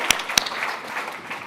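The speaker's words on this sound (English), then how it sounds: "Round of applause, please." An audience applauds as a $45,000 Intel water prize is presented at the ASU Innovation Open: two sharp, close claps open, then a soft, even wash of many hands clapping at moderate loudness.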